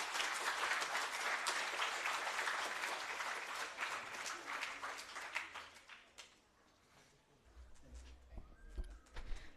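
Audience applause at a Space Science Day celebration, a dense burst of clapping that rings strongly at first, then thins and fades toward the end, with low rumbling in the final seconds.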